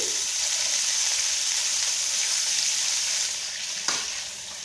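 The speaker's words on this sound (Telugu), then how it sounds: "వేడెక్కిన తర్వాత చుక్క కూర వేయించుకోవాలండి." Chukka kura (sorrel greens) frying in hot oil in a pan at home, a dense continuous close sizzle that eases slightly near the end, with a single soft clink and no speech.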